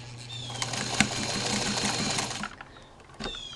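Sewing machine stitching the edge of a knitted doll sweater made on a weaving loom, a steady close whirring run for about two and a half seconds that stops, then briefly restarts.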